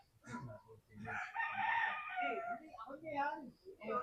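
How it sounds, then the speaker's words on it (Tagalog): A rooster crows nearby, partly overlapped by people talking before and after the call. "Manok nila, oh, yun."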